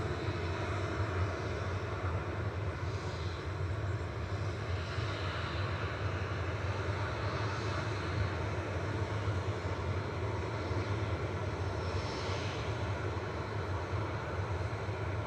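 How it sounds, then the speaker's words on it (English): A Ryanair Boeing 737-800 departing Manchester Airport, its engines a steady broad roar that holds evenly and continuously from a distance. "departing next is Ryanair to Memmingen"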